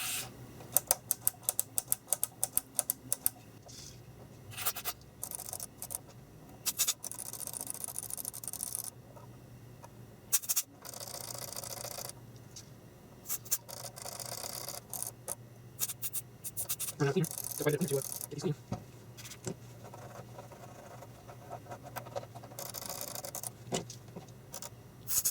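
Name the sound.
cleaning and clicking amplifier buttons and jacks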